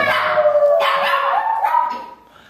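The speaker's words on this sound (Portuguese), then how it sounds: "É só falar a Lula que os cachorros ficam tudo perdidos aqui." Several dogs bark excitedly in a dense, overlapping burst of yips and howl-like barks, loud and close, trailing off near the end.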